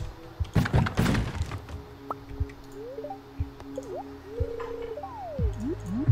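A bomb blowing up in a mine in a farming video game: a short burst of thuddy, squishy impacts near the start, followed by quiet game tones and scattered small clunks.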